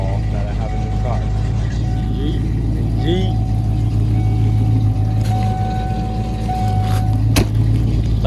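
A Toyota Celsior car's engine idles while warming up on a cold December day, a loud, steady low rumble with close, continuous drone and occasional clicks, as a person speaks over it.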